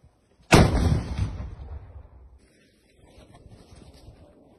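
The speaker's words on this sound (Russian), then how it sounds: "Выстрел." A single loud, close RPG shot bursts out, followed by a rumbling decay and faint wind noise afterward.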